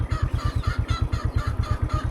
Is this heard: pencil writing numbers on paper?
no